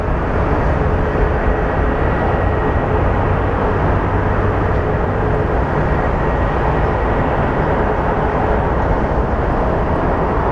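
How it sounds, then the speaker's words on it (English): A Southwest airplane taxis at Phoenix Sky Harbor airport, a steady, loud, broadband engine rumble and roar that holds constant throughout with no talk over it. "Our Southwest that is taxiing"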